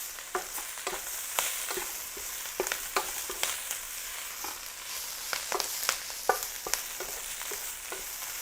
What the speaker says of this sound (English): we're gonna give this a little stir. As you can see, the kale's already reducing in size.